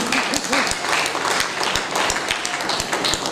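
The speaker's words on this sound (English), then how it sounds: "Let us put a round of applause for all of them one by one" A crowd at an investiture ceremony applauds inductees with loud, dense clapping that holds steady throughout, several sharp individual claps popping out close by, with faint voices mixed underneath.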